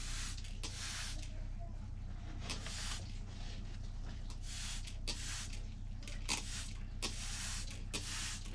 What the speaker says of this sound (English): So we'll give it a little spray really quick.